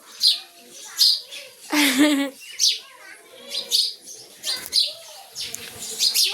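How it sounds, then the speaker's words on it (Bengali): House sparrows nesting under the tin roof of a rural house give bursts of bright, busy chirps that come and go in clusters. A person speaks briefly partway through. "ওই যে দেখো ওই যে চুড়োই পাখিগুলো বাসা বেঁধেছে"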